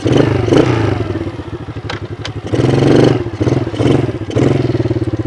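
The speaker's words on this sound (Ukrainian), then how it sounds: "Рух вперед додаємо газ і він починає їхати." A children's quad bike pulls forward under throttle, its small electric motor whirring with clattering, thumping wheels, surging and easing in a few pulses, close by and loud.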